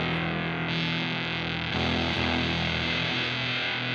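SurfyFuzz fuzz pedal driving an electric guitar with its harmonics control turned fully up, giving a dense, saturated sustained tone rich in upper overtones, held steadily and loud with a slight swell partway through.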